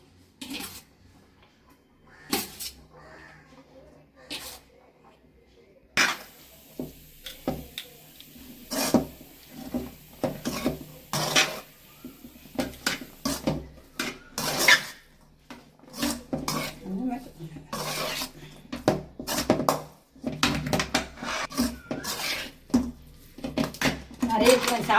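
Cooked home rice being stirred into tomato thokku in a pan, with repeated metallic clanks and scrapes of a spoon against the pan, growing busier toward the end, alongside some talk.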